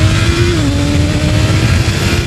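A BMW S1000RR sportbike engine drones at a steady high idle close by, its pitch dipping slightly partway through, with no voices.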